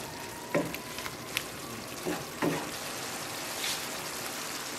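Ground beef with mushrooms and garlic frying in a pan gives a steady close sizzle, broken by a few sharp stirring scrapes and clinks, with no voices.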